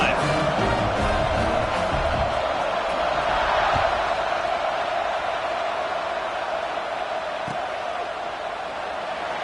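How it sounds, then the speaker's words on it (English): Steady crowd roar and cheering in a college football video game, Auburn versus Florida State, after a scoring drive, broad and continuous at high level throughout with no clear peaks. "this crowd is feeling themselves after that last drive"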